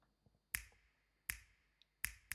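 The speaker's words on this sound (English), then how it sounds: "Next up we have a finger snap." Three crisp, isolated finger snaps recorded for a Christmas record, evenly spaced and close, each a sharp dry click with a short tail.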